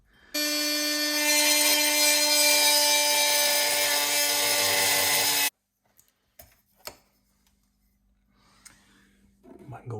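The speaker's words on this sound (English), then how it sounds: "the way I'm going to cut this, my absolute favourite M12 oscillating tool" A Milwaukee M12 oscillating tool cuts through copper pipe with a loud, steady, high buzzing drone lasting about five seconds and then stops abruptly. A few faint clunks and handling knocks follow, along with brief soft sounds near the end.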